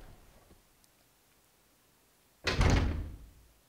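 A door opens in the horror video game Resident Evil 0 HD Remaster with a single loud, heavy thud that fades over about a second, after near silence.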